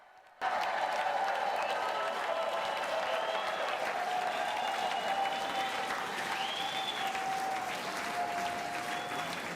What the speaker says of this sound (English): You'll see who claps and who doesn't.